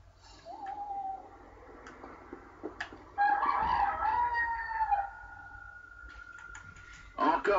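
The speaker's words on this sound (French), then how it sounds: "Le coq a chanté et je suis toujours là." A rooster crows in The Witcher 2, its drawn-out cock-a-doodle-doo rising over soft ambient game sound, with a second crow and brief clucks following near the end.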